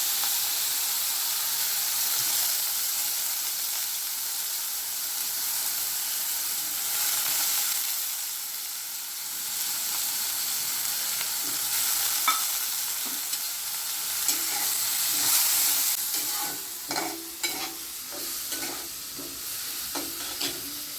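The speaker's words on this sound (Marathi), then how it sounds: "फोडणी दिली आता मग कांदो टाकायचा" Steady loud sizzling of onions frying in hot oil tempered with cinnamon, cloves and peppercorns, a continuous close hiss with occasional stirring scrapes toward the end.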